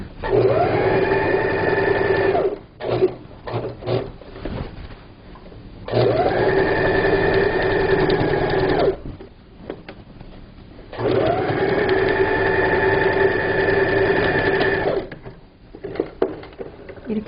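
A sewing machine runs in three long, loud bursts while finishing the seam of a low table cover, with short pauses and handling clatter between the runs.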